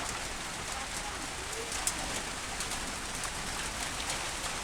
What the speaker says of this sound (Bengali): বৃষ্টি আগের থেকে অনেক বাড়ছে কিন্তু এই যে দেখেন বৃষ্টি পড়তে আছে